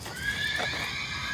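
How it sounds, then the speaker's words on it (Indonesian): A brief, distant horse whinny rings out near a stone cave area, thin and high over a low ambient rumble. "Lo denger suara kuda?"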